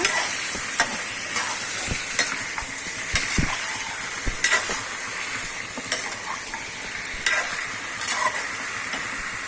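One kilogram of chicken being mixed in a hot pan for Tamil Nadu style biryani, continuous sizzling with repeated scraping and clanking strokes of the spatula every second or so, close and fairly loud.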